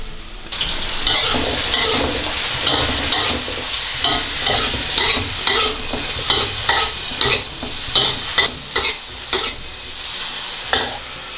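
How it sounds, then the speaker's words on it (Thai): Baby corn and shiitake mushrooms stir-fried in a hot wok for a vegetarian glass-noodle dish, with a steady loud sizzle and rhythmic scraping strokes of a spatula that grow more distinct toward the end. "พี่ดาจะใส่ ข้าวโพดอ่อนลงไปผัดพร้อมกับเห็ดหอมเลยนะคะ"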